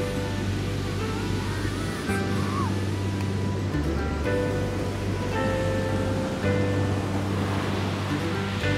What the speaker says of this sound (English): Those waves right behind you are money.